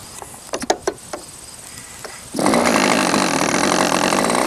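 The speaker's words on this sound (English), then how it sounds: "we've already got a little fuel up there in the engine, so let's see if it starts" A radio-controlled model airplane's glow engine is flicked over with a few short pops and coughs, then catches and settles into a loud, continuous high-pitched buzzing drone.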